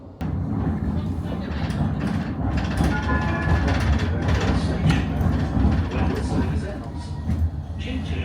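A Blackpool tram rumbles along its rails with a continuous low mechanical roar and faint clicking, loud and close from inside the car, with a voice speaking briefly over it.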